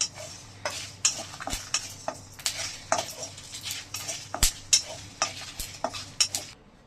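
Chilies and masala spices stirred and dry-roasted in a hot pan, a spoon scraping in steady repeated strokes with sharp clinks against the metal and a faint sizzle underneath, close and moderately loud with no talking.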